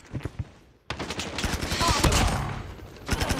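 Rapid gunfire bursts in the Call of Duty video game, with dense crackling volleys building through the middle of a short clip and sharper single shots at the start and end.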